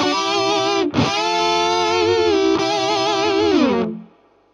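Electric guitar run through a Boss MS-3 multi-effects switcher with an outboard distortion pedal: a loud, saturated sustained note with a brief dip near the start, then a bend that decays into quiet ringing.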